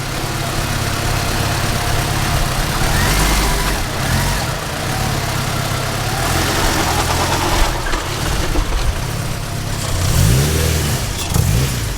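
A Honda Civic FA5 engine running rough, idling unevenly and revving up and down in loud, close waves for several seconds with no one talking.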